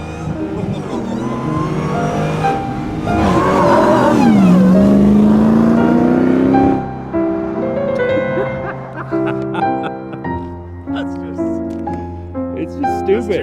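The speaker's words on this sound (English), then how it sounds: "once you drive a V8 and you have the rumble, the sound, the feel" V8 car engine rumbling and revving, a deep rising tone that swells loudly for a few seconds, then drops back to a lower idle rumble as other sounds layer over it.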